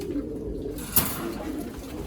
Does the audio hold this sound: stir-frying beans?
no